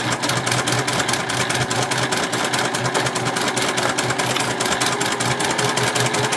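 A sewing machine stitches a quarter-inch seam through fabric and batting, running continuously with a rapid, even mechanical chatter, close and steady throughout, with no talk.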